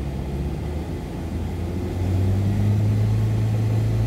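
A Nissan Altima engine with a clogged catalytic converter idles with a steady low hum, then revs up partway through, its drone rising and holding at a higher, louder pitch.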